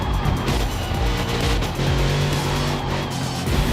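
A race car in Forza Motorsport skids with a broad rushing tire noise over a droning engine, loud and steady for a few seconds.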